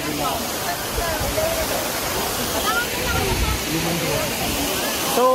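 A waterfall in Rizal rushes as a steady, broadband roar that fills the whole clip at close range, with faint voices and small sounds scattered over the constant wash of falling water.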